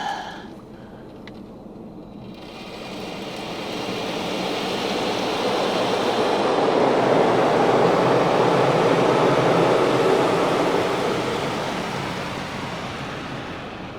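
A Ryko Radius automatic car wash rinses a car with a rushing, hissing spray that swells to a loud, close drench and then eases off slightly, heard from inside the vehicle.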